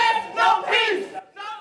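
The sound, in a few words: crowd booing outside a courthouse after a sentencing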